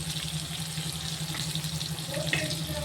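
Dissolved tamarind water pours into a pan of fish curry with a steady splashing rush over a low hum, close by and without talk.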